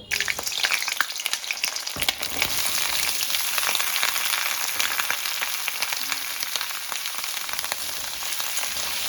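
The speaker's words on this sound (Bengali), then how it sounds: "একটা কড়াইতে কিছুটা তেল গরম করে আমি এইগুলো ভালো করে ভেজে নেব" Diced potatoes and pointed gourd frying in hot oil in a wok give a loud, dense, continuous sizzle that starts suddenly and stays steady up close.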